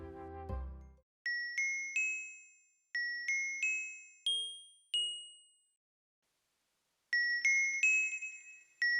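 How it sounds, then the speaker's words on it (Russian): Bright bell tones processed with a delay effect ring out in short ascending runs, each strike trailing into echoing repeats that fade away, after a brief low thud at the start. "Колокольчики теперь звучат намного более выразительно."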